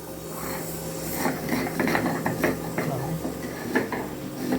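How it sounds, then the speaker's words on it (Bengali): Mustard seeds being ground into paste while cooking an aubergine and mango sour dish, heard as close, repeated scraping and rubbing strokes in uneven bursts. "সর্ষেটা একটু বেটে নেবো আমি"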